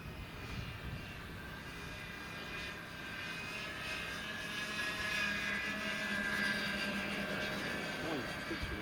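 Two Hobby King Avro Lancaster radio-controlled model bombers fly in close formation, their multiple electric engines droning in a steady, distant hum throughout, with people talking outdoors over the sound.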